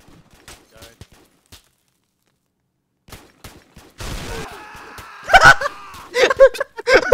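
Gunfire from a video game shootout with a Desert Eagle pistol in an indoor hallway, arriving as a few loud, sharp bursts after quiet stretches, with people talking around the shots.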